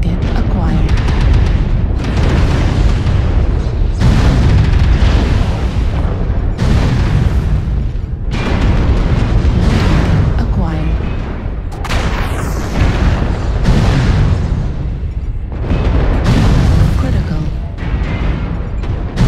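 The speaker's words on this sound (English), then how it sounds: "Warning, incoming missile." Repeated heavy missile explosions boom in the MechWarrior Online video game, arriving in a steady series of loud rumbling blasts about every two seconds, with brief automated voice warnings mixed in.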